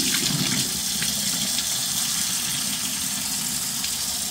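Tap water runs steadily while rice is washed for Jamaican-style chicken chop suey, a continuous close gush with no pauses.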